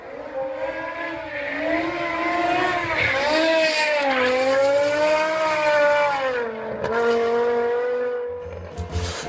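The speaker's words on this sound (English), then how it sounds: "this is the only one that came with a V10 engine" A BMW M5's V10 engine, closely related to a Formula One V10 and prone to rod bearing failure, revs up in a loud, high-pitched wail that rises and falls through several sweeps.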